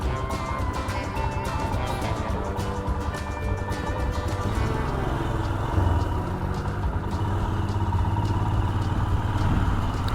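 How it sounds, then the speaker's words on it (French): A car passes on a wet road after heavy rain, its engine a steady mid-pitched rumble that runs close and continuous from start to finish under constant road noise. "On va laisser passer la voiture."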